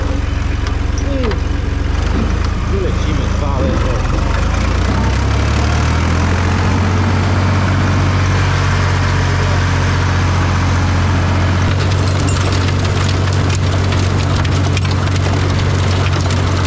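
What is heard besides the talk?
air-cooled Renault tractor engine running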